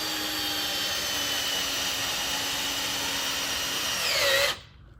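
A cordless drill drives screws into the jamb of a vintage trailer door, a loud, steady whine running unbroken, then rising in pitch briefly before stopping abruptly.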